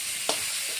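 Broiler chicken meat frying in a pan with cumin paste, ginger paste and a little spice, a steady close sizzle with two brief stirring scrapes.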